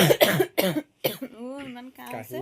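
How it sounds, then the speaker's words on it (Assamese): A few harsh coughs in quick succession during a bathroom singing competition in Assam, then a person's voice carrying on with drawn-out, sung-like tones. "কাহি অৱস্থা"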